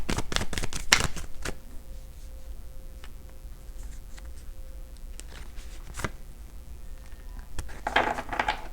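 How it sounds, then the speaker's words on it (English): Tarot cards topple and slap down in a quick flurry of light papery clicks at the start, followed by scattered single taps and a short rustle near the end, close and quiet with no talk. "whatever this message is causing these cards to fall over."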